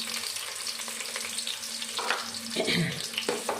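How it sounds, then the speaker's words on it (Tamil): Chopped onion sautés in oil for a vegetable biryani, giving a dense, continuous close-up sizzle with a few louder bursts of stirring and scraping toward the end. "வெங்காயம் கொஞ்சம் நல்ல எண்ணெயில் வதக்கிக்கிடலாம்."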